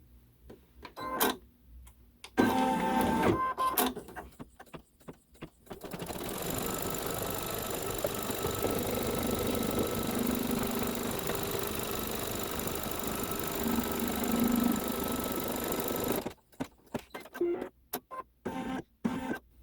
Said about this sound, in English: the first thing we do is stitch down our batting